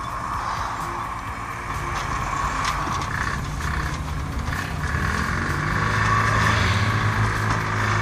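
A Ligier JS60 car driving with its engine running, a steady close drone that rises gradually in pitch and loudness as it goes, alone without talk.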